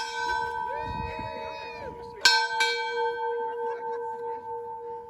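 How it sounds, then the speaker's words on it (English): A large bell struck at a New Year bell ringing ceremony gives one sharp clang and then rings on with a long humming decay, with voices talking just before the strike. "That's a heck of a bell"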